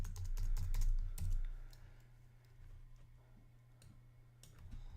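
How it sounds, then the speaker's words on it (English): Rapid typing on a computer keyboard, with quick bursts of close, crisp key clicks that ease off partway through and resume at the end. "So I'm going to type in the eBay breakthrough."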